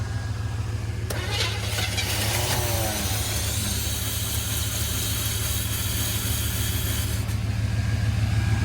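Small-block Chevy engine in a 1970 C10 pickup cranking over after the distributor is hooked up, a steady loud mechanical churn with a rough rising burst in the middle, close and continuous throughout.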